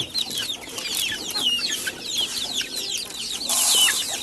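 A flock of hens clucks continuously at close range while eating, their overlapping calls growing a little louder toward the end; no voices.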